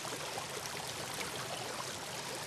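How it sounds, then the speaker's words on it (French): Water spills over small cascades and weirs onto stones in a garden stream at Little Sparta near Dumbarton, Scotland, giving a steady, full rushing splash with no pauses and no voices. "C'est ce qui produit ce son de l'eau qui tombe sur les pierres."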